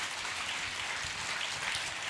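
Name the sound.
audience clapping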